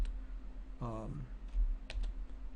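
A few light key clicks as a password is typed on a computer keyboard, faint and close, with a brief hum of a voice partway through.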